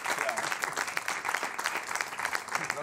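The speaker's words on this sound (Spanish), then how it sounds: "Un aplauso por aquí, que es muy buena." Studio audience at a Spanish-language quiz show breaking into sustained applause, many hands clapping in a dense, even patter that holds steady throughout.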